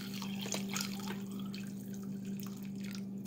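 Water poured into a pot of beef barley soup, a steady splashing trickle running under a constant low kitchen hum, close and moderately loud throughout.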